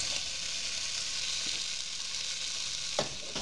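Steady, loud sizzle of Gobi 65 cauliflower florets frying in hot oil for street food, a continuous hiss with a couple of brief louder crackles and no talking.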